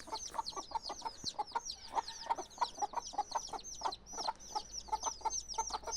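Baby chicks fresh from the incubator peep steadily while pecking at chick crumbs, a dense run of rapid, high chirps close by with no voices.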